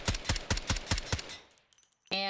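Rifle build firing in the shooter game Delta Force: six sharp, evenly spaced shots in a quick controlled burst, loud and close, then a short pause and a bright electronic tone.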